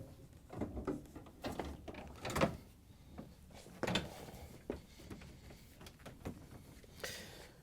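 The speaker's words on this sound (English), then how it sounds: "Once you have the door in place, you can push it in and out to make sure it slides in properly." An LG/Kenmore freezer door pushed in and out along its rails, giving a series of close, fairly faint sliding clunks and rattles spaced irregularly, with no talking over them.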